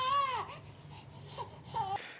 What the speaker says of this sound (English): this is the crying baby sound test on the AirPods